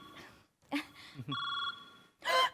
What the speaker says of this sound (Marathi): त्याचाच फोन आहे. उचला आता.